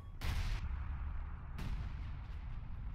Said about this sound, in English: Base artillery going in